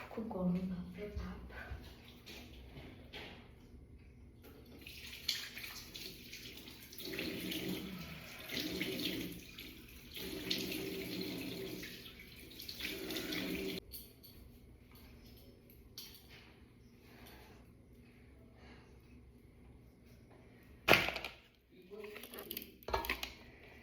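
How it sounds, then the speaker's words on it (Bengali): Running tap water splashes into a sink at night while a face is washed with Cetaphil face wash, a steady rushing flow with shifting splashes, a brief clink near the end and voices speaking at times. "তো এখন আমি ফেস ওয়াশ করছি রাত্রিবেলা, আর আমি ইউজ করছি এখন সেটাফিলের এই ফেস ওয়াশটা।"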